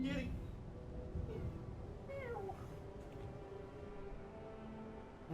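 A pet cat meows in a rising, plaintive call, close by, amid steady background sound and talk.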